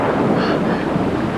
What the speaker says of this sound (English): Just the wind, Scott